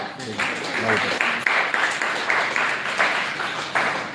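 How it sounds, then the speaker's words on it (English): A seminar audience claps for a speaker, a steady patter of hands in a hall that swells in rhythmic bursts and holds for several seconds, with faint voices murmuring underneath. "Let us all clap for her"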